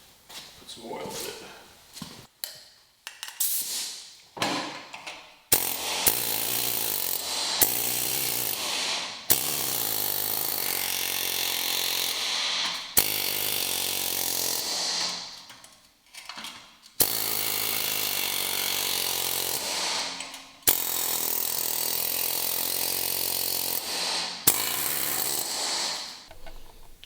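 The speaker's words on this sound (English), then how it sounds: "One of these air hammers." A pneumatic air body hammer fires in long, loud rattling bursts separated by brief pauses, up close with hissing air, while fitting new body mounts on an early Ford Bronco.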